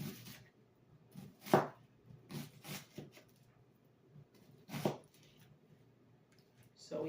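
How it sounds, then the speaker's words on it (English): Onions being chopped with a knife for a home-cooked oxtail dinner, a few sharp, close, irregular knife thuds on a board with quiet gaps and faint background noise between strikes. "So we have our onions here that we're chopping."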